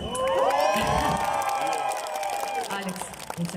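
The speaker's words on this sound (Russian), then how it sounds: "я, кстати, хочу вас попросить поаплодировать моему сыну" A concert crowd applauds and cheers for the singer's young son, with whoops and children's shouts mixed into the clapping and a voice speaking over it.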